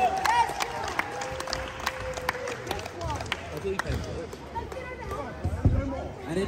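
A crowd at a ramp competition award ceremony applauds and cheers for a second-place finisher, with steady clapping, scattered whoops and voices calling out close by.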